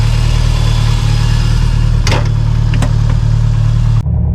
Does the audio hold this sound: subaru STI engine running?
yes